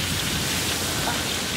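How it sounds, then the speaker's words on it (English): Torrential rain pours down during a hurricane on a remote island. A dense, unbroken hiss of heavy rainfall fills the whole moment, loud and close, with no voices. "We are experiencing torrential downpour and flooding."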